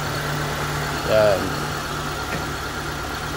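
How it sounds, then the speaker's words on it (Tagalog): A Mitsubishi Lancer car engine, freshly refreshed with a new radiator, idles steadily with a low, even hum, and someone speaks briefly over it. "ito na rin yung andar ng makina"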